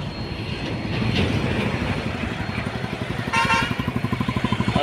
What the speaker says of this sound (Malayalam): ട്രെയിൻ കടന്നു പോകുന്നുണ്ട്.